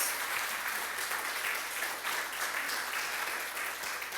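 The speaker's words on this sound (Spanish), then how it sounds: "Dele un aplauso de alabanza al Rey de Reyes" A church congregation applauds in praise during a sermon, a steady, moderately soft wash of many hands clapping together without a break, no speech over it.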